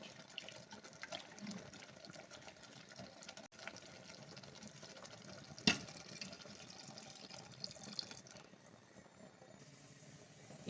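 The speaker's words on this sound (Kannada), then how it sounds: "ಗ್ಲಾಸ್ ನೀರು ಹಾಕ್ಬಿಟ್ಟು ಜಾರ್ ತೊಳ್ಕೊಂಡು ಆ ನೀರು ಹಾಕ್ತೀನಿ." Water from a rinsed mixer jar is poured into a pan of cauliflower, pea and potato gravy, a faint, quiet trickle and splash with a few small knocks and no talking.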